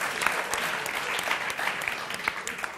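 Studio audience applause on a Spanish comedy show, a dense, even burst of clapping from many hands that holds steady throughout.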